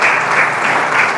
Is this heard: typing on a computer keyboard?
no